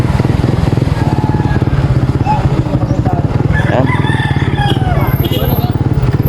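Roosters crow a few times amid a busy outdoor market where chickens are sold in Barangay Nabangig, Masbate, over a steady rhythmic engine rumble and chatter of people nearby.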